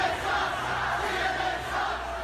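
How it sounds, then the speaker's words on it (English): A hostile political rally crowd chants against CNN, a dense, steady roar of many voices held at constant loudness throughout without breaks. "This is just a small clip of the crowd coming after CNN."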